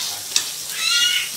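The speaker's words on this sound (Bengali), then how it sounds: "বেসনে লাগিয়ে তেলে ফ্রাই করতে হবে।" Bread coated in gram flour batter sizzles and fries steadily in hot oil, close and continuous, with a brief stir or clink partway through.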